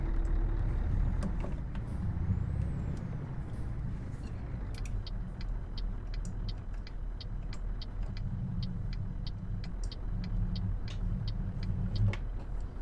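Truck driving in Euro Truck Simulator 2, a steady low engine rumble with road noise and a run of regular faint ticks, like an indicator, over it.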